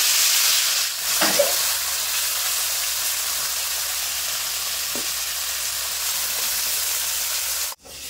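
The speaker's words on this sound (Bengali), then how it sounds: "তো একইভাবে সব মাছগুলো ভেজে নেব।" Small bata fish fry in hot oil in a pan, giving a loud, continuous sizzle with a couple of soft stirring scrapes and a sharp clunk near the end.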